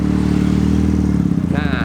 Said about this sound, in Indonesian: Knalpot di motor ini mempergunakan SAC muffler, keluar kiri dan kanan, membuat suara motor ini tambah stereo dan tambah ngeblar.